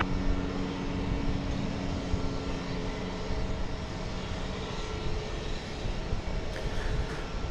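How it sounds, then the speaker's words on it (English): An American Airlines Airbus A321 picks up speed on takeoff at DFW Airport, with a loud, steady jet engine roar and a dense rumbling drone that holds evenly throughout. "So that's American flight, what is that, 367, Picking up the speed. going to Phoenix, an Airbus A321"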